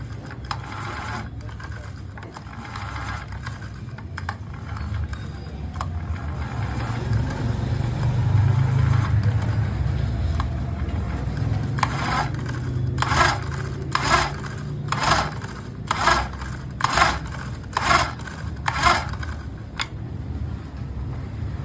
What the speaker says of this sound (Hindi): रिकॉइल स्टार्टर खींचने पर साउंड आ रहा है